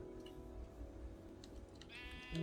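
A sheep in the Minecraft video game lets out a single short, faint bleat near the end, over a quiet background hum.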